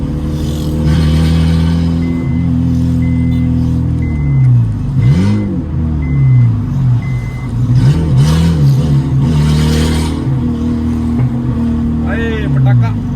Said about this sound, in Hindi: लेकिन गाड़ी का आवाज़ जो है ना वो ख़राब हो गया।